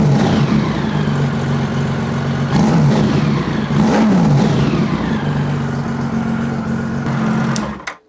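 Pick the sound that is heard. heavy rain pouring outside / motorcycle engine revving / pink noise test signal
motorcycle engine revving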